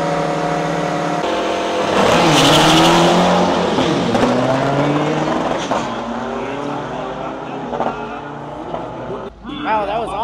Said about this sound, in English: We'll get to see some of these trucks driving next.